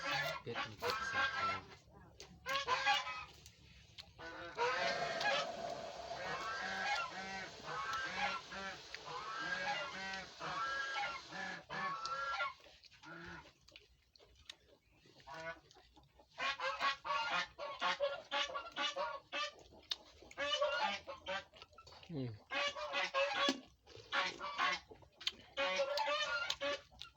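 A flock of ducks quacking and honking nearly continuously, close and busy, with brief quieter gaps and some faint voices in the background.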